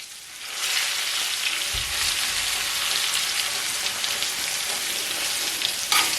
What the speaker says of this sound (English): I have a good amount of butter in here. And my steaks are cooking.